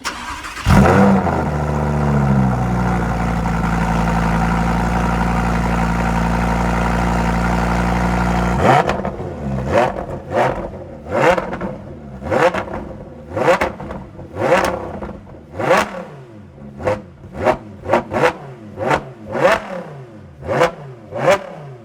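A Lamborghini Huracán STO with a four-box exhaust and its valve system removed holds a steady loud drone, then rips through a long series of sharp exhaust revs, each blip rising and falling quickly, close by.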